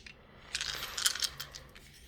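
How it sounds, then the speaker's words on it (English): Dice rolled during a tarot reading, giving a brief cluster of light clicking, rattling impacts close by, quiet and alone for about a second and a half. "I'm going to roll these dice here and see what comes up for us."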